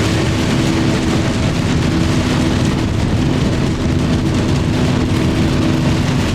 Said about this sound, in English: This was a pop-up storm if there ever was one